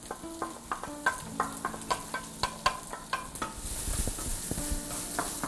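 Chopped onion hitting melted butter in a pan, giving a steady sizzle under repeated clinks and scrapes of a utensil stirring against the cookware, with no talking.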